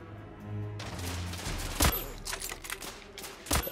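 Sniper rifle fire in the video game The Order: 1886, aboard an airship level: two sharp, loud shots about two seconds apart over a murmur of in-game battle noise.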